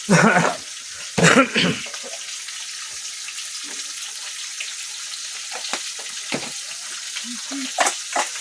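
Fish frying in a pan of hot oil in a home kitchen, giving a steady close sizzle, broken near the start by loud bursts of spattering as pieces go in, with occasional clinks and brief voices over it.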